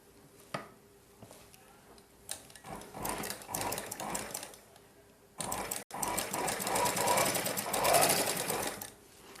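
A sewing machine stitches a blouse with a double stitch, running in steady mechanical bursts that grow louder and more continuous in the second half, with a brief stop midway.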